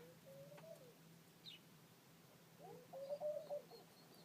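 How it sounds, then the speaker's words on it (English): Birds call outdoors among greenery: soft, fairly distant chirps and short warbled phrases, scattered through the clip and clustering near the end, over quiet background hiss. "And I think you can hear the birds."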